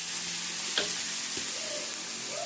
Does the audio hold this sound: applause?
no